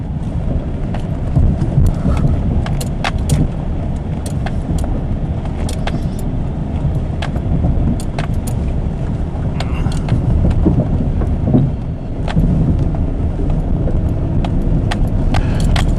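A pickup truck bounces over a 40-acre farm field, its engine rumbling steadily and loudly throughout with frequent rattles, clanks and jolts from the rough ground, and no talking.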